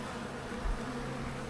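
Honey bees hum in an opened hive colony full of brood frames, a steady low drone holding throughout with a slight swell midway, no voices.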